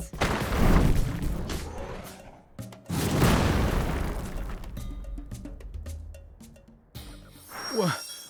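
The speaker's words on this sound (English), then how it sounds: "What was that just now? A cannon?" Cannon fire in the Sand Land video game: two heavy booming blasts with long rumbling decays, loud and close, followed by a clattering metallic burst and a falling whistle.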